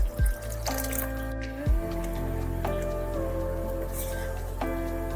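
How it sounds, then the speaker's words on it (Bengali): Water is poured into a pot of Mughlai dal made with four mixed lentils, giving a close trickling, splashing pour with bubbly gurgles and drips, and no one speaking. "এবার দিয়ে দিচ্ছি পরিমাণ মতো অল্প করে একটু জল"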